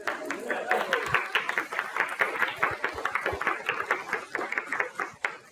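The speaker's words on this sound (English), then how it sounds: "Yes, applause is appropriate." Church congregation applauding during a Sunday ingathering service, moderate steady clapping from the pews with some murmuring voices mixed in.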